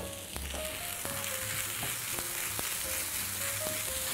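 Buckwheat porridge with cottage cheese and cane sugar is stirred in a hot pan, a continuous soft sizzle overlaid with scattered light scrapes and taps from the spoon, close and without speech.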